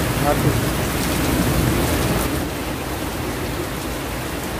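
Heavy rain pours steadily as a dense, loud, continuous hiss close by, easing slightly partway through, with no speech.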